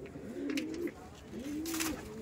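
Red Madrasi pigeons coo in two drawn-out, wavering phrases, close and moderately loud over a low murmur of background noise in a loft.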